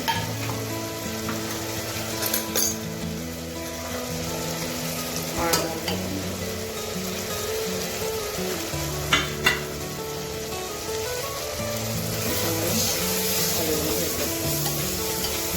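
Tomatoes and ground masala sauté in a pan on medium heat for mushroom pulao. A steady close sizzle runs throughout, with occasional sharp clinks and scrapes of stirring and no talk.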